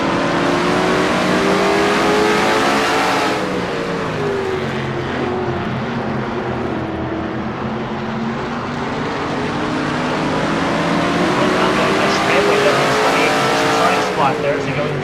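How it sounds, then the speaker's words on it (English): Onboard car 26 in a stock car racing video game, a loud race engine drones continuously at high revs, pitch rising and dipping through the corners, with a commentator talking over it throughout. "On board with Quentin Moore in car number 26"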